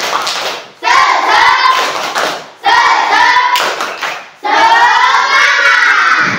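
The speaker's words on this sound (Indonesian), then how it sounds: "Coba tepuk semangat dulu." A fifth-grade class in an Indonesian primary school does a rhythmic spirit clap, with loud bursts of hand clapping and children's chanting voices coming in three energetic rounds separated by short pauses.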